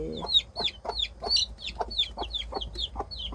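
A hen clucks in a steady series of short, repeated calls, close by and moderately loud.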